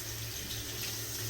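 Tap water runs steadily into a sink to soak a shaving brush, a close, continuous rushing and splashing stream with no pauses and no talking.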